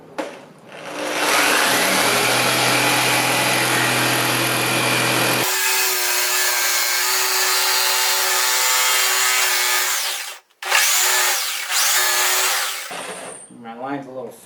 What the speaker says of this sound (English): I'm going to attempt to use my jigsaw to cut this line